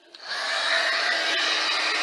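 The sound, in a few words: heat gun blowing hot air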